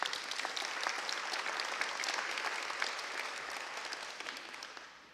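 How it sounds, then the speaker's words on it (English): A crowd applauds the Medicaid work group at an Illinois Medicaid waiver expansion celebration, a steady round of many hands clapping that slowly fades out. "Can we give the Medicaid work group a round of applause?"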